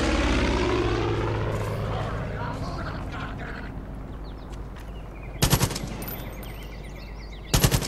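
An air-support aircraft in Far Cry 5 drones overhead with a falling engine roar, then strafes with two loud, short bursts of gunfire several seconds apart.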